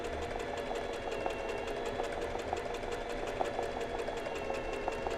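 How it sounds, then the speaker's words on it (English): A sewing machine runs continuously at a steady, fast pace while stitching straight-stitch embroidery, a close, even mechanical whir with a regular needle rhythm and no voices. "we stitch towards the inside"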